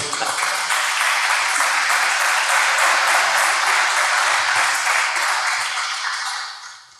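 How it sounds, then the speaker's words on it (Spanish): Church congregation applauding together, a dense, steady wash of clapping that holds strong for several seconds, then fades out at the end. "Denle una ofrenda de palmas"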